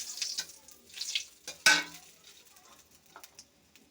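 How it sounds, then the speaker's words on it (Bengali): Dried chili, bay leaves and cardamom frying in hot oil in a pan for a fish and cabbage curry, a soft crackling sizzle broken by a sharp clatter of a utensil against the pan, fading quieter afterward. "দিয়ে দিচ্ছি শুকনো মরিচ, তেজপাতা, এলাচ। মাছটা আমি ভেজে রেখেছি, ভালো করে এটা ভেজে নিচ্ছি।"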